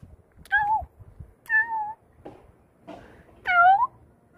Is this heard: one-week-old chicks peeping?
no